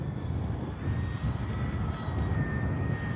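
A Kavan Pilatus PC-6 Porter radio-controlled model plane in flight, its engine giving a steady, unbroken buzzing drone that stays loud and close for the whole stretch with no voices.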